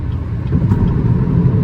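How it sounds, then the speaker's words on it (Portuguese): A BYD Dolphin Mini electric car accelerates hard to overtake on a highway, heard as a steady, loud low rumble of road and tyre noise that holds throughout with no voices. "Vou simular aqui uma ultrapassagem, ó. Seta para a esquerda, pisei tudo."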